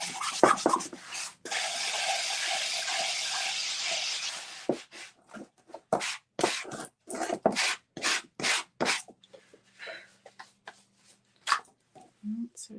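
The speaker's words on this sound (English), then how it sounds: "I'm just going to take my sandpaper to that." Hand sanding with sandpaper on the scraped side of an old wooden project: a sustained scrubbing rasp, then a run of short, regular back-and-forth strokes, close and moderately loud.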